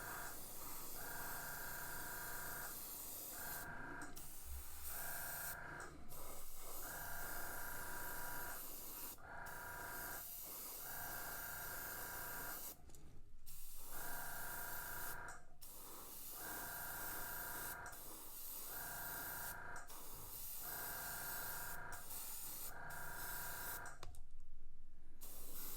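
Airbrush spraying light layers of paint onto a fishing lure, a quiet steady hiss repeated in short bursts of one to two seconds separated by brief pauses, close and without talk.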